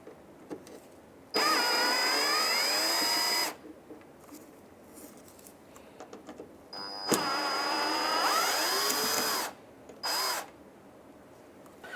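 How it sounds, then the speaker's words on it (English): A power driver spins a 10mm bolt out of the bumper bracket on a 2015-2019 Hyundai Sonata, with two long whirring bursts and a short final one. Quiet pauses separate the bursts, and no one speaks. "I'm going to take out the 10mm now."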